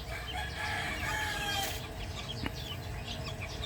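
Native chickens in a farmyard, a rooster crowing amid clucking hens and chick chirps, moderately near over a steady outdoor background.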